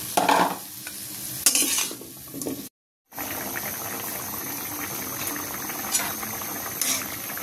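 Cucumbers cooking with sautéed onions in a pan give off a steady bubbling sizzle, interrupted by stirring scrapes and a brief silent gap before the frying resumes.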